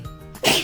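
One sharp, loud sneeze bursts out close by after a brief quiet intake of breath.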